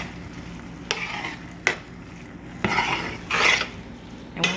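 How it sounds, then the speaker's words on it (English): Philly cheesesteak sloppy joe filling simmering down in a pan, a low bubbling sizzle broken by a few sharp spoon scrapes and clanks against the pan as it is stirred, close and without speech. "you're gonna let this cook until almost all the liquid has evaporated"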